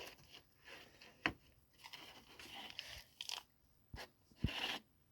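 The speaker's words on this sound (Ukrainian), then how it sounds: "будемо видушувати з цього пакету." Black paste is squeezed out of a plastic bag in close, quiet handling, with crinkling plastic, sticky squelches and a few sharp crackling snaps.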